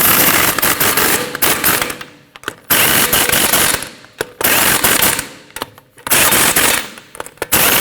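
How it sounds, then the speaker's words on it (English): An impact wrench tightens the five lug nuts on a Ford Escape wheel in a star pattern, loud close rattling bursts of about a second each, repeated five times with short pauses between. "Now you want to tighten your 5 lug nuts up in a star pattern."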